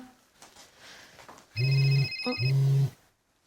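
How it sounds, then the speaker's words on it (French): A mobile phone rings out in two loud, even electronic bursts after a quiet stretch, then stops abruptly. "Il y a un portable qui sonne."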